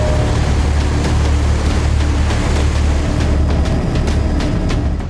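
A large, unnamed waterfall deep in a big forest, roaring as a loud, steady broadband rush of falling water that holds an even level throughout, with no voices.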